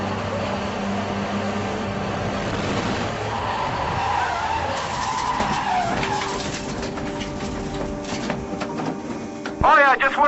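A touring race car runs off the track at a circuit, with engine drone, a rising scrape and skid, clattering bursts and a tire squeal near the end, heard from inside the car.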